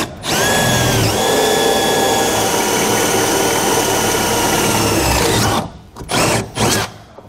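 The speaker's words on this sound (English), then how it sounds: "we're just going to drill those out using a 5/16 drill bit" A power drill with a 5/16 bit whines steadily at high speed for about five seconds, pitch dipping briefly as it bites into the metal frame of a 2011 Forest River RV, then stops with a few short bursts.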